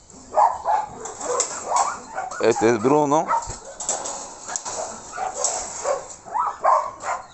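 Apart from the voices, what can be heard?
dogs whimpering and barking after being let out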